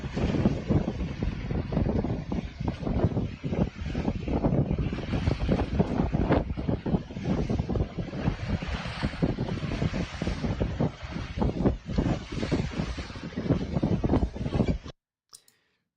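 Steady wind and broadband water wash surround a heavy wooden sailing boat under way in a breeze, with scattered clicks of rigging or hull; the noise stays loud and continuous with no voices, then cuts off abruptly near the end.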